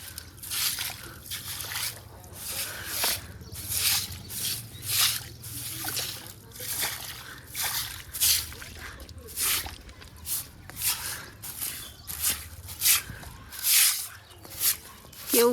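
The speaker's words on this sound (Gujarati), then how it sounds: "અને અહીંયાથી છે ને બહુ પાણી પડે છે." Water falls and drips steadily from an overhead point during early monsoon rain, a continuous wet splashing with irregular louder bursts throughout.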